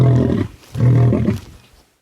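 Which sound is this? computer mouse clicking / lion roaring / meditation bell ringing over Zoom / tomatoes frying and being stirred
lion roaring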